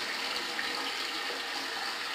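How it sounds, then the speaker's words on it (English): Cold water runs from a tap as a steady, moderately faint hiss and splash that continues unbroken, with no talk. "can I turn on a cold water?"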